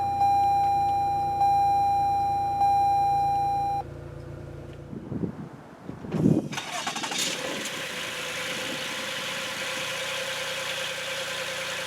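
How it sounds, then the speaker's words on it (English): A 2017 Toyota Highlander SE AWD is started with the push button. A few soft electronic chime tones come first, then a short starter crank catches into a steady, close engine idle that continues to the end. "And the car starts right up."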